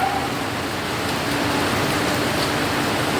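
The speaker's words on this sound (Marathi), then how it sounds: "आता अचानकमध्ये पाऊस आला" Sudden rain falling outdoors, a steady dense hiss of drops that holds at an even level throughout, with no voices over it.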